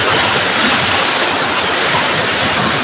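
Steady, loud surf rolls onto a shore along a curving stretch of coast, a dense continuous wash of breaking waves with no voices over it.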